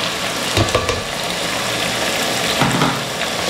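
Carrots frying in a hot pot while being stirred, a steady sizzle broken by a few scraping stirs, close and alone.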